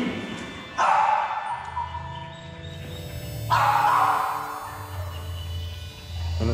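A large, nervous dog gives two long, loud barking or howling calls a few seconds apart, close by, with some movement noise in between.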